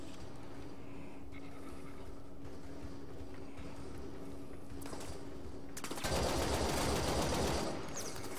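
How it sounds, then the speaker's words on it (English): Enemy gunfire in Warframe, with a steady battle background giving way to a loud burst of rapid automatic shots near the end. "Somebody's shooting at me"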